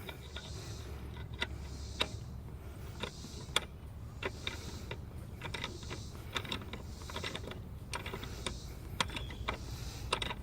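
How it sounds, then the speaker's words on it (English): A ratchet snugs the 13 mm exhaust manifold bolts on a 1991 Firebird, making quiet, sparse metallic clicks in short irregular bursts over a low steady background hum. "I need my ratchet here"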